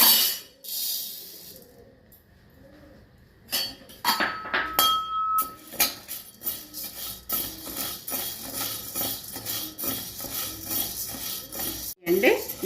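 Dry urad dal pours into a pan and is stirred for roasting while making curry leaf podi. Scraping and clinking of a spoon against the metal pan goes on in a steady rhythm, close and fairly loud.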